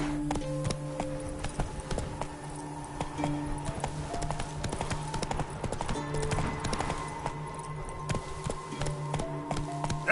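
Horse hooves clip-clop at a steady walking rhythm in the video game The Witcher 3, even, continuous and close over a soft game ambience.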